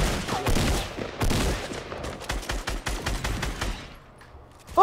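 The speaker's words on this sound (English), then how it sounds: "You shoot him, Sean." Gunfire in the Fortnite Battle Royale video game: loud rapid volleys of shots, then a slower string of individual cracks that thins out toward the end, with no talking over it.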